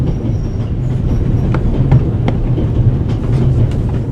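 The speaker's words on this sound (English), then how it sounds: "The noise on this train is driving me crazy." Steady rumbling train noise aboard the Orient Express in the video game The Raven, a continuous low clatter with sharp wheel clicks spaced irregularly over it, loud and close throughout.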